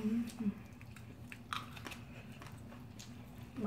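Close-up mouth sounds of someone eating changran-jeot (salted pollack tripe) bibimbap with soup, with soft chewing and occasional crunchy bites, plus a few faint clicks under a steady low background hum.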